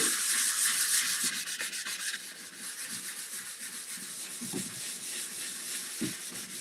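Steady, scratchy rubbing of sandpaper on a wooden bedside table, close by, with rhythmic back-and-forth strokes and no voices.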